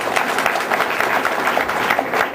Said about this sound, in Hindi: विश्वनाथ नामदेव जी को एक बार जोरदार ताली